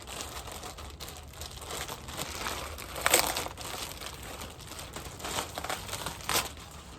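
A plastic bag holding a pair of Atreyu Base Model running shoes crinkles and rustles steadily at close range, with a few sharper crackles, and no talking.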